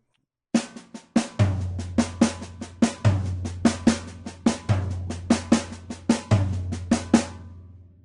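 Steady sixteenth-note snare strokes accenting the first and last sixteenth of each beat, with a deeper tom stroke on beat two of each bar, a samba batucada pattern played alone on a close drum kit.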